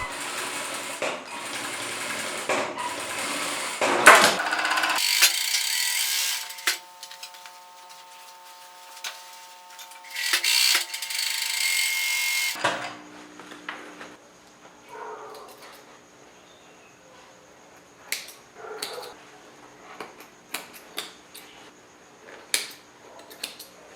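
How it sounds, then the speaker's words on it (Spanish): A straight-stitch sewing machine and then an overlock machine sew the corners of a fabric tote bag, with bursts of mechanical whirring, some steady stretches and scattered clicks and handling noises, close by. "vamos a unir las esquinas para coserlo en nuestra máquina recta y posteriormente en la máquina overlock"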